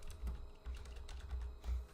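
Quick, soft keystrokes on a computer keyboard in a short burst of irregular clicks, close and fairly quiet.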